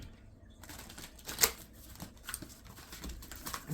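Quiet papery riffling and tapping as a brand-new, rather thick tarot deck is shuffled by hand, soft irregular card slaps with one sharper snap, close by and low in level with faint room noise.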